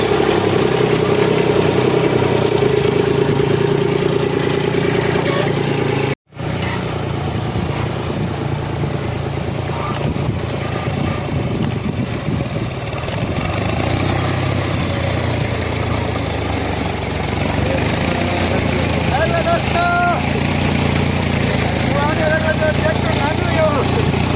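A tractor engine drones steadily and loudly throughout while ridges are built in a small cotton field, the low rumble continuous apart from one brief dropout, with voices faintly mixed in.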